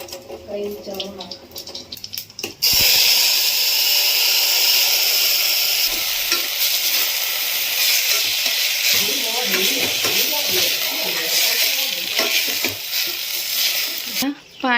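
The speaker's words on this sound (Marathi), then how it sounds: "यामध्येच मस्त जिरे आहेत ना छान असे तडतडू द्यायचे मस्त" Cumin seeds crackle in hot oil, bursting into a loud, dense sizzle after a quieter start and holding steady close by, with a voice speaking over it.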